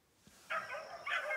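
Hound dogs chasing a rabbit bay in two drawn-out, faint cries from a distance, each lasting about half a second, with outdoor ambience between them.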